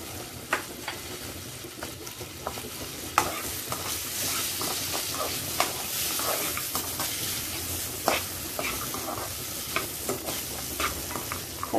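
Jackfruit seeds fry in a pan with turmeric and asafoetida, a steady close sizzle broken by frequent scraping clicks of a spoon stirring them.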